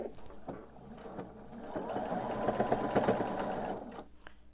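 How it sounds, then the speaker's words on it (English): A sewing machine runs steadily for a few seconds, stitching a quilt block seam with a fast even whir of the needle, close and alone with no talk. "I am just going to sew about 1/2 inch on either side, landing right at that point"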